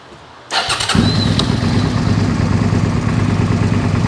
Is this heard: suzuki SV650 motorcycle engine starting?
yes